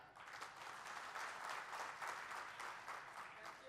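An audience at a silk-farming (sericulture) market meeting breaks into steady, sustained applause that holds at an even level throughout, with no pauses.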